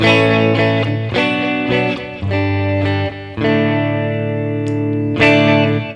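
Tease SBH-E Tele-style electric guitar on its split bridge humbucker, a run of chords and notes with sharp attacks and ringing sustain, played alone with an effects tone.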